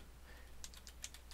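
Quick, faint keystrokes on a computer keyboard, about six light clicks in a short run over a low steady hum.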